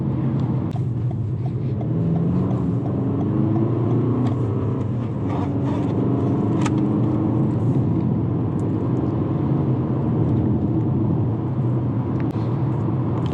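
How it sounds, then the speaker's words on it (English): A 2019 Toyota RAV4 is driven on the road, its engine pulling and building speed under a loud, continuous cabin rumble, with no speech. "You really have to push the accelerator a little bit to get it to downshift so you can actually go forward."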